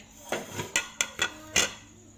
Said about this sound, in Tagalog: tanggalin muna natin yung kanin sa rice cooker